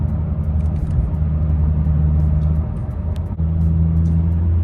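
Steady engine drone and road rumble come from inside a 2018-2022 Honda Accord Sport cruising in sixth gear at about 60 mph in highway traffic. The sound is loud and constant, with a brief dip partway through and no talking.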